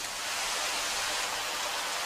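Steady, dense rainfall hisses evenly throughout, a constant close wash of drops with no pauses or voices.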